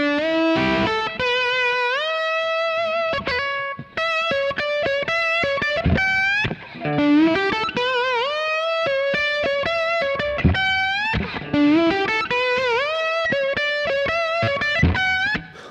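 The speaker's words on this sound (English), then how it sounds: "You get all those classic slide licks in there." Slide guitar lick in open E tuning, with gliding bent notes rising and falling between quick plucked attacks, played alone, bright and steady with a slightly distorted tone.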